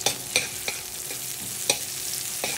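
Garlic and onion sauté for pancit in a pan, a soft steady sizzle punctuated by a handful of quick spatula scrapes and taps, close and alone without speech.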